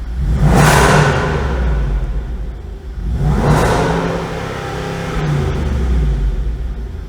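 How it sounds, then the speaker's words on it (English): A 2019 Jaguar F-Pace SVR engine revs hard twice with open exhaust, a deep, throaty roar, then settles into a lower rumble before a third, softer rise. "We're just opening the pipes, and let's see what that sounds like."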